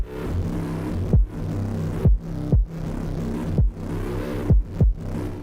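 A deep, droning low bass noise repeatedly drops out as punchy kick drum hits land, six thumps in an uneven rhythm.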